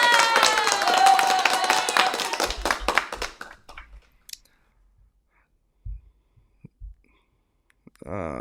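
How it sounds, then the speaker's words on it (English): Brief burst of clapping and scattered cheering from a small group during a bike and transportation news talk show, loud at first then quickly thinning to a few isolated claps and near silence. "Let's give them some applause."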